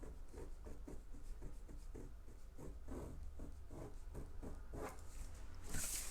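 Pencil drawing a guideline and connecting dots on dress pattern paper for a trapeze dress, a soft scratchy scraping in repeated short strokes, close and quiet, with no talking.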